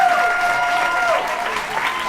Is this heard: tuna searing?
no